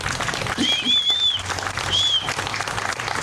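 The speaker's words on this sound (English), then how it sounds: "Please, everybody clap for the donors." An audience applauds the donors at Kim Waltrip's Palm Springs star ceremony, a steady, dense outdoor clapping that holds for several seconds, with a couple of high whistles cutting through.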